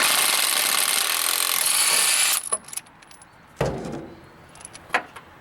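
An Ingersoll Rand W7150 impact wrench runs in reverse on a crank bolt, giving a loud, close burst of hammering for about two seconds. It then cuts off, leaving scattered clanks and rattles as the bolt comes free.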